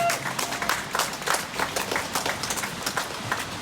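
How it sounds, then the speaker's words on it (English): An audience at a rally about defunding the police applauds, a moderately distant burst of clapping that carries on for several seconds with uneven patters of hands, no speech over it. "Can we hear a clap for that?"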